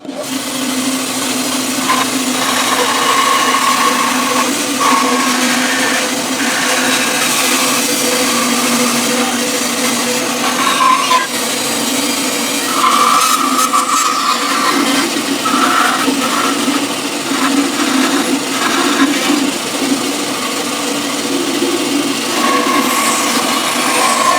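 A steady, continuous whine of a power tool trimming a guitar body cut from scrap wood, running without pause for the whole stretch, with slight shifts in pitch as it bites into the wood, and no voices.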